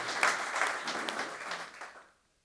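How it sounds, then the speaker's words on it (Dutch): Studio audience applause at a Dutch talk show welcoming guests, dense steady clapping for about two seconds that then stops abruptly into silence. "Uw applaus voor Joop en Michael Zeilaert"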